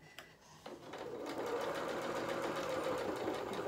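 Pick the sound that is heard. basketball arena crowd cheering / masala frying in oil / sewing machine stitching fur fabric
sewing machine stitching fur fabric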